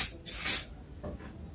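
A short hissing burst of texturizing hair spray, then a fainter second spritz, close to the microphone with no talking.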